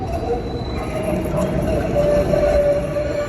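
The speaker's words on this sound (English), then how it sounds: "Just wait till the train goes." A train passes nearby outdoors, a steady broadband rumble of wheels and rail noise with a faint high squeal, continuous throughout at moderate loudness.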